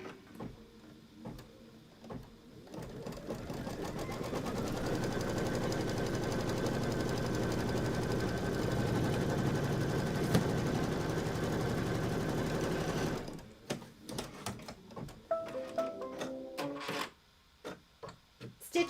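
An embroidery sewing machine stitching a fabric seam for a quilt block, a close, steady mechanical whirring that runs for about ten seconds, with handling clicks and rustles before and after.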